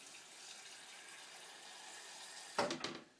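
Purified water splashes and gushes briefly into a blender near the end, after a steady background hiss; two short bursts of pouring.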